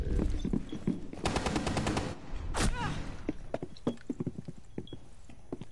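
Gunfire in a video game, with rapid repeated shots in a burst and scattered single reports, mixed with other game effects at moderate loudness.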